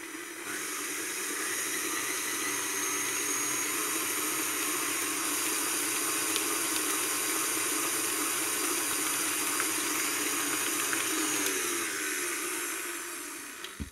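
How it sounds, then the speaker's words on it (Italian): A stand mixer whirs steadily while beating cake batter for an Italian apple, blueberry and amaretti cake, a continuous close hiss-like motor drone that runs for about thirteen seconds before winding down. "aggiungiamo l'ultimo uovo e riavvio nuovamente la planetaria"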